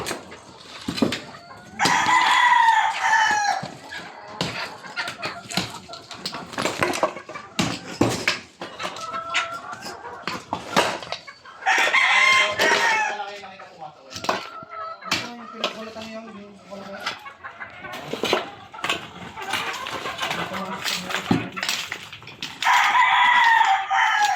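Chickens cluck and a rooster crows repeatedly across a busy farmyard, with people talking nearby throughout.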